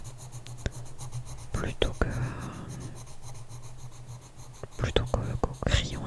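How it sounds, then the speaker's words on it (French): Fine-tip black pen drawing on paper, with soft scratchy strokes coming in short bursts close to the microphone while someone whispers over them. "je préfère dessiner seulement au stylo noir à pointe fine"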